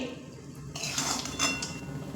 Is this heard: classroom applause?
no